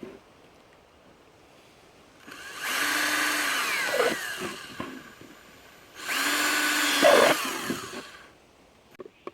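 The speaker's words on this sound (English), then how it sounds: "take your plastic pot and just start drilling holes in it right around the middle" A power drill bores holes through a plastic pot in two sustained whining bursts of a few seconds each, close and loud, separated by a quiet pause.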